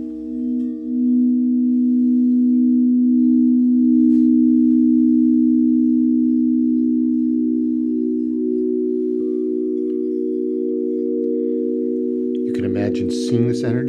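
Crystal singing bowls ring out in a smooth, sustained pure tone that holds steady and slowly pulses for many seconds, fading a little before a voice briefly speaks at the end.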